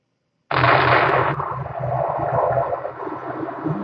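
A projectile is fired in The Jectile Game physics video game: a sudden sharp blast after a moment of silence, followed by a rumbling whoosh as the shot flies on, with no talking.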